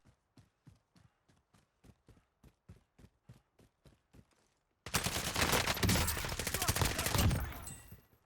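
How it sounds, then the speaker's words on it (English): Call of Duty Warzone gunfire: a rhythmic run of sharp single shots for several seconds, then a dense, loud burst of sustained automatic fire that fills the remainder before cutting off. "There's definitely somebody else shooting me then"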